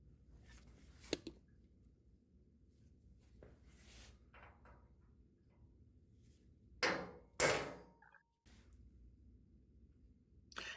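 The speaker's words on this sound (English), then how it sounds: "Using our center punch." A hammer strikes a center punch on a steel frame rail during a 4-link rear suspension install, giving a few sharp, scattered taps with longer pauses between, fairly close but quiet, over faint workshop background.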